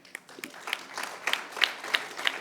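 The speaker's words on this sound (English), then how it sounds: "your rounds of applause should go to the sponsors as well" A small audience at a valedictory session of an insolvency and bankruptcy research conference claps for the sponsors, fairly faint and sparse, with individual claps standing out in a loose, uneven rhythm.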